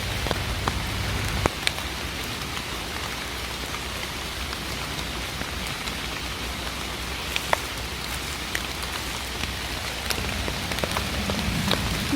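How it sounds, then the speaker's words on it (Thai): Steady rain falls in a forest where mushrooms grow, a soft continuous patter of drops on leaves and ground with occasional louder nearby drips. "มื้อนี้ฝนตกมาพร้อมกับสายฝนนะคะวันนี้"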